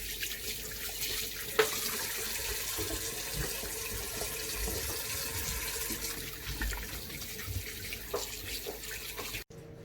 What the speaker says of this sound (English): So the first thing you're going to want to do is wash your hands.